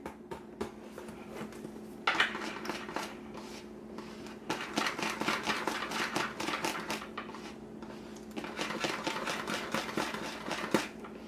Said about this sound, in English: I'm just gonna try to mix it, and we're gonna whisk it together